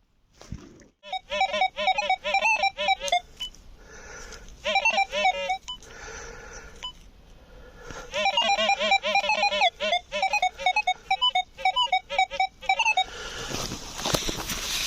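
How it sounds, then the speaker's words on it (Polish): Rapid electronic chirping tones from a metal detector signalling a target near the surface, in repeated bursts, warbling high and pulsing, with short pauses between runs and a rustle at the end. "Piękne ćwierkanie, sygnał na powierzchni."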